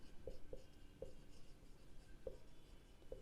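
A pen writing on paper during a commerce accounting lesson, making a series of soft, close scratching strokes with short gaps between them, quiet and steady, with no talk.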